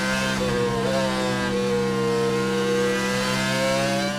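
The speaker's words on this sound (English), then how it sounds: "The engine screaming." A Formula One car engine screams at high revs, loud and sustained, its pitch wavering slightly through a gear change before holding a steady howl.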